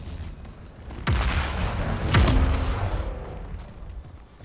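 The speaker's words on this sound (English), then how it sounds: "I like the thud that the BFB does" Heavy thuds from the BFB weapon in the shooter game Splitgate: two deep booming shots about a second apart, each with a sharp broadband attack and a low rumbling tail, loud and close.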